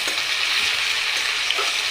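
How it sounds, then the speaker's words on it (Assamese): Steady, loud sizzling of chopped onions frying in a hot pan, a continuous crackling hiss with no voices. "এনেদৰে পিঁয়াজখিনি মই ধুনীয়াকৈ ভাজি লৈছোঁ।"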